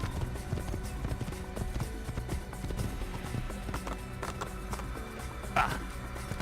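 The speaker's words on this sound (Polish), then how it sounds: "Jezu, jak ten koń skacze." A horse gallops in the video game Assassin's Creed, its rapid, rhythmic hoofbeats continuous and prominent within busy in-game ambience.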